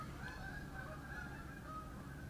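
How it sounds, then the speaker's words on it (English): Geese honk outdoors in a faint, distant series of drawn-out calls over a steady low background rumble, with no talking. "Oh, geese."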